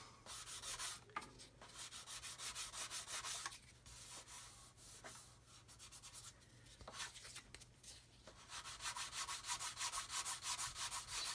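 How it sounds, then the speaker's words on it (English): A 220 grit sanding stick rubs back and forth across a model kit surface in close, rhythmic bursts with brief pauses, loud and alone without speech. "Still sanding away."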